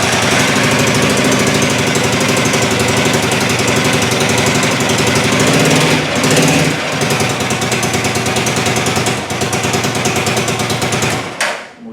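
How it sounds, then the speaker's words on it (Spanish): A motorcycle engine runs loud and close with a fast, steady mechanical chatter, continuing without pause and cutting off abruptly at the end. "la moto ha encendido sin ningún problema"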